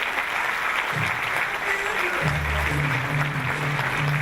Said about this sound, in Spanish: Le damos un fuerte aplauso de bienvenida a María Eugenia Estensoro y Silvia Neistat